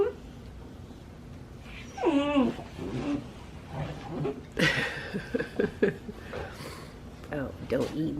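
A puppy whimpers and yips in high, wavering cries, mixed with nearby talking.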